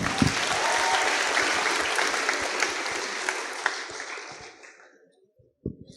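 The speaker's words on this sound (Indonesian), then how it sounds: "Kita apresiasi dulu, tepuk tangan sekali lagi teman-teman." A crowd at an academic year opening worship service claps loudly and densely, the applause tapering off and fading to near silence, followed by a few faint knocks at the end.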